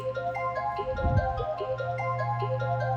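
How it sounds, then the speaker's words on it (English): A little bell pluck melody in a trap-style beat plays as a quick, repeating run of bright, short chiming notes over a steady low bass tone. The pattern is loud and continuous, with no voices. "We also add in the little bell pluck."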